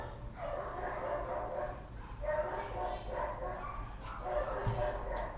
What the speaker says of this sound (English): Fucking dogs started barking again.